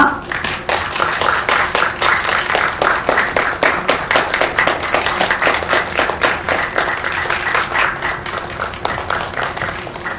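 An audience claps at a film press screening as the director and actors are welcomed, a continuous burst of many hands with distinct sharp claps throughout, close and steady, easing slightly near the end.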